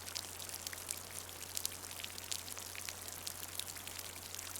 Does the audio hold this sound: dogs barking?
no